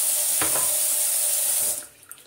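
Tap water runs steadily into a soup pot in a home kitchen, a loud continuous splashing stream that cuts off near the end, leaving a few faint clinks.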